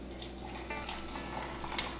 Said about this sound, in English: all you need to do is pour the water in